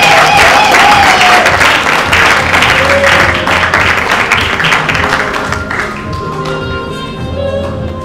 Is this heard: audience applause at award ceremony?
yes